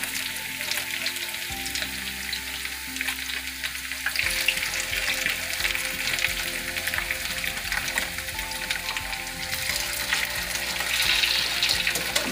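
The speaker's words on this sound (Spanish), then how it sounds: "Voy a echarlos aquí al sartén. Ya está bien caliente el aceite." Tacos dorados fry in hot oil in a pan, giving a steady, close sizzle and crackle that runs unbroken throughout, with no voices.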